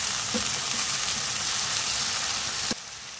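Chopped tomatoes stirred in a frying chana dal tadka: a loud, continuous sizzle with a couple of soft spoon knocks, dropping to a quieter hiss at the end; nobody talks.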